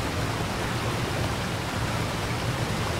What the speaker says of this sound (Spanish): No sé qué hay detrás de la cascada.